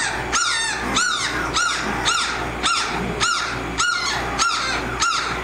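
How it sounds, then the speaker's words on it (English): A litter of young American Mastiff puppies squawking in a steady, rapid series of high, rising-falling cries, about ten calls close up and fairly loud, with no talking. "And they know I'm in here, so they're squawking."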